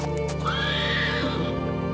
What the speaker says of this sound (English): the sound of a horse-drawn carriage pulling up to the entrance of the mansion